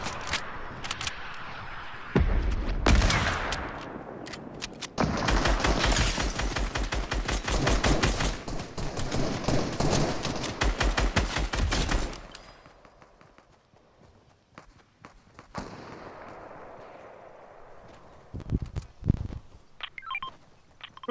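Rapid gunfire in the battle royale game Fortnite, dense bursts of sharp repeated shots rattling for several seconds, then a quieter stretch broken by a few scattered loud cracks near the end.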